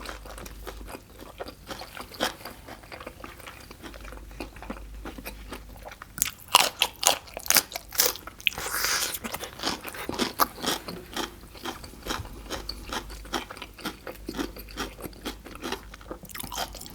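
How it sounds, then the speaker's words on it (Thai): Crispy pork belly with crackling skin is bitten and chewed up close, giving a run of sharp, irregular crunches and crackles that grow denser partway through. "เนื้อนี่จะเปื่อยมากแล้วก็หนังจะกรอบ"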